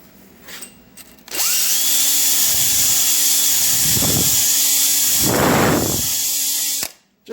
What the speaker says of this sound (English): Now we'll use a flex hone.